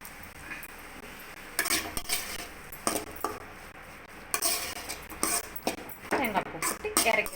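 Grated coconut being stirred into a ponnanganni greens stir-fry in a pan, with several scraping strokes of a utensil against the pan and a soft background hiss.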